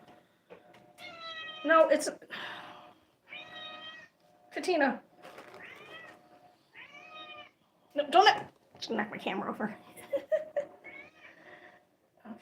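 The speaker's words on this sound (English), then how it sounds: "here comes the mama cat again" A mother cat meows repeatedly near the microphone, a string of drawn-out, whiny cries and shorter chirps at uneven intervals, with someone talking in between and over them.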